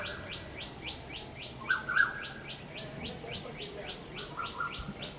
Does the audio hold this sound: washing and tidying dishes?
no